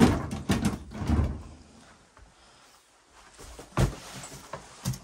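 Wooden drawers in an abandoned farmhouse are pulled open and pushed shut, giving a cluster of loud knocks and scrapes, a quiet pause, then a few more sharp thuds close by.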